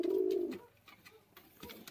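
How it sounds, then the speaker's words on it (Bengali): Giribaj and Madras pigeons give a loud, close coo for about half a second, followed by quieter scattered coos and rustling from the pair. "দেখুন বন্ধুরা পায়রা দুটো,"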